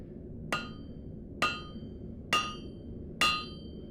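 Blacksmith's hammer striking metal on an anvil, four sharp ringing clangs spaced about a second apart, close and clear with no voices.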